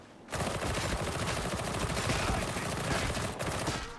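Gunfire in Warhammer 40k Darktide, a dense sustained burst of rapid shots that starts abruptly and stays loud and continuous for several seconds, with no speech over it.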